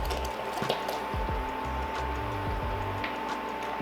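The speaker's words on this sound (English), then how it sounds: "in with the half and half" Half and half poured into a pot of broccoli potato soup, giving a soft, close liquid gurgle and splash that runs steadily for a few seconds, with low thuds underneath.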